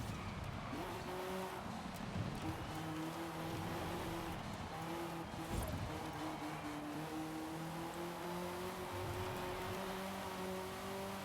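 A Lamborghini in a racing video game runs with a steady engine drone that climbs in pitch through the gears, with tire noise and a hissing wash underneath and no voice.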